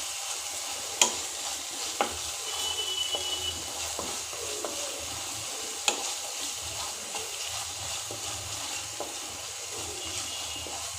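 Onion and ginger-garlic paste fry in a pan with a steady close sizzle, while a few sharp spoon clinks and scrapes of stirring cut through at intervals.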